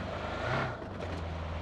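A vehicle engine drones steadily in PUBG gameplay on the Erangel map, a continuous rumbling drive with a slight swell early on and no voices.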